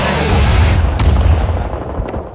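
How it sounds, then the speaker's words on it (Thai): Explosions and gunfire fill a battle in the Vietnam War shooter Rising Storm 2: Vietnam, a loud continuous barrage of booms with sharp shot cracks rising above the low rumble. "ระเบิดระเบิดยังไม่หมดนะ ยังไม่หมดนะครับ"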